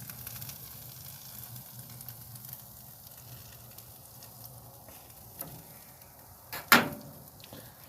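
Chicken breast sizzles on a grill with a faint, steady crackle, followed late by a brief sharp clatter of handling.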